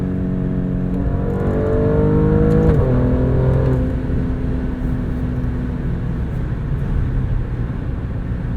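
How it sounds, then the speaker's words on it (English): A 2022 Alfa Romeo Stelvio Quadrifoglio in race mode accelerates hard, its exhaust note rising loud through the gears, dipping at a shift, then settling into a steady cruising drone heard from inside the cabin. "And this exhaust."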